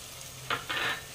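Green peas tumble into a pan of frying masala, giving two short, close bursts of sizzle and clatter over a quiet background with no talking.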